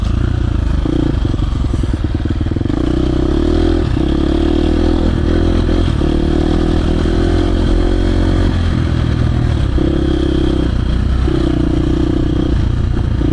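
A KTM 350 dirt bike on a woods ride, engine roaring loud and close throughout, with surges of revving as the throttle is blipped, plus clattering and scraping from the rough trail.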